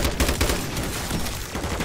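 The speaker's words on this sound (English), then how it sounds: "Oh, zombies that shoot." Rapid gunfire from shooting zombies in MW3 Zombies, a dense, continuous burst of repeated shots lasting the whole stretch, loud and close with no talking over it.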